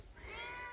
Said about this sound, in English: This is our cat. Meow.